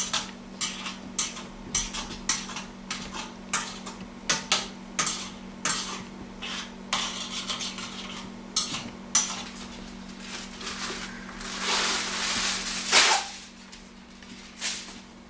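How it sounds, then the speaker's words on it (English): A utensil repeatedly scrapes and taps against the bottom of a skillet while food cooks, with steady short clinks and scrapes over a constant hum, then a louder sizzling swell near the end. "you can kind of scrape all that yummy stuff off the skillet top"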